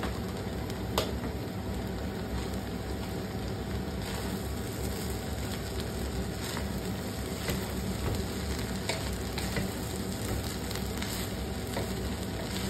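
Nigella (kalonji) seeds frying in a pan as a steady, close, even sizzle that carries on without pause, with no talking.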